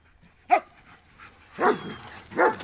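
A dog gives a few short barks with whiny, whimpering tones, spaced out over a couple of seconds, fairly close by.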